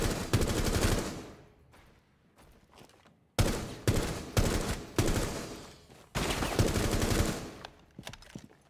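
Automatic gunfire in the game Rainbow Six Siege, loud close bursts of rapid shots separated by short pauses, with no talking.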